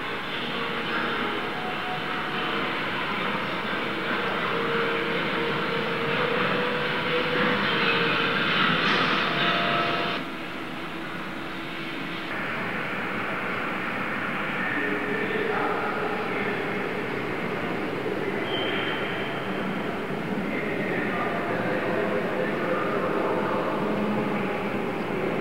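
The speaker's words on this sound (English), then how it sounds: "This is a traveling mail train." A mail train rumbles steadily past with a dense, continuous roar of rolling wheels and rattling cars, loud and close throughout.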